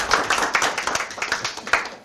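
Small group clapping after a live broadcast wraps up on a Korean talk show, a short burst of fairly close, uneven hand claps lasting about two seconds.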